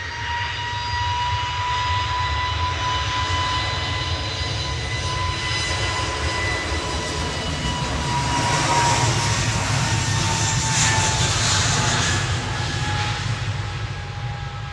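An easyJet jet airliner at Manchester Airport gives off a loud, steady engine roar that swells slightly midway and holds throughout, with no voices.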